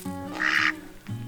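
A duck quacks, a single nasal call that rises and fades, heard close and alone with low background tones around it.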